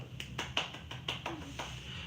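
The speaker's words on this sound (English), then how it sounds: "clap it up, clap it up, clap it" A few hands clap in a steady rhythm, about eight crisp claps close by, with a little room echo.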